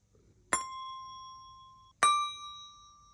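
Montessori bells, small metal tuning bells used for pitch grading, are struck twice about 1.5 seconds apart, each giving a clear bright ring that holds and slowly fades in a quiet room.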